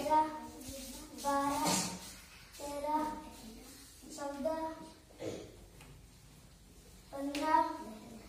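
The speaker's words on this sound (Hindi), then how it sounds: "ताली बजा दो" Children clap their hands during a counting lesson with their teacher. A few sharp, scattered claps break through the children's chatter and calls.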